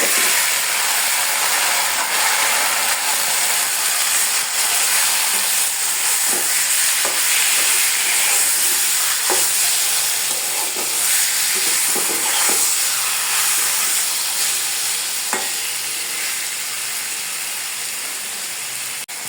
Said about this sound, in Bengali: আমি মাংসটাকে রান্না করে নেব। মাংসটাকে অ্যাড করে দিচ্ছি।